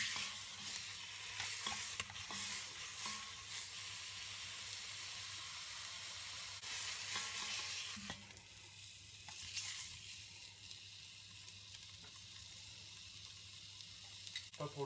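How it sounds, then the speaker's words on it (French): Leg and shank of lamb searing in a hot casserole pot for a slow braise, a steady broad sizzle running throughout with occasional stirring and scraping, loud and close, easing slightly in the second half. "On vient bien colorer notre gigot sur toutes ses faces."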